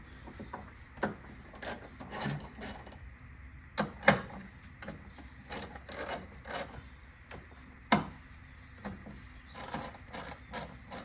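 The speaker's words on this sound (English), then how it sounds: "So remove these 3 bolts. They are size 12 hex bolts." Size 12 hex bolts being loosened and removed from the battery tray of a Mazda 2.2 Skyactiv diesel, giving intermittent close metallic clicks, scrapes and ratchety rasps with short pauses between.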